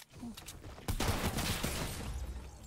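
Gunfire in the game Fortnite: after a quiet start, a sudden burst of rapid shots breaks out and keeps rattling at moderate loudness for the rest of the moment.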